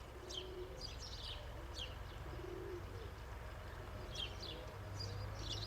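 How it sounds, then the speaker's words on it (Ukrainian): Pigeons coo softly in the open, with several short chirping calls from other birds over a steady low outdoor rumble; one older pigeon is descending to land among younger birds. "Опускається якийсь голубок."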